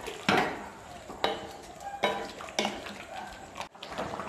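Spoon scraping and clinking against a pot while fish curry with cauliflower and black pepper is stirred, a series of sharp metallic strokes about every half second over a soft bubbling background, close and fairly loud.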